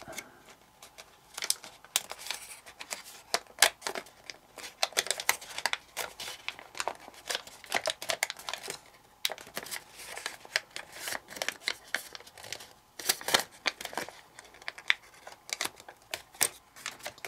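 Paper is creased and folded into an origami Jeep, making a continuous run of close, crisp crinkles, rustles and sharp little snaps in an irregular rhythm, with no talking.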